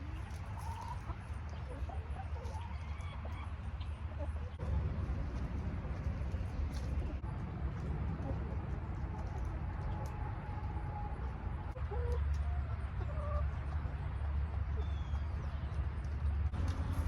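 Chickens cluck softly now and then in an outdoor coop area, mixed with steady low background noise and wind, with no talking.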